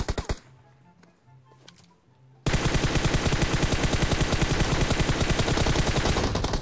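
Gunfire in PUBG Mobile: after a quiet stretch, a loud, sustained automatic burst of rapid, evenly spaced shots runs for about four seconds, with a couple of shots heard briefly at the start.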